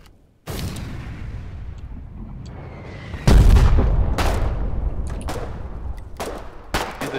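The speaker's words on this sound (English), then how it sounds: "These tanks are northwest, shooting at the base." Tank cannon fire and gunfire in the Foxhole war game, with heavy booms and sharp blasts striking at intervals over a continuous rumble of battle, loud and close.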